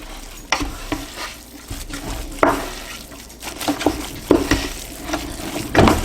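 Sausage stuffing with poultry seasoning stirred in a pan for Thanksgiving, giving a steady sizzle with repeated scraping and clacking strokes of the spoon at irregular intervals, close and moderately loud, with no talking.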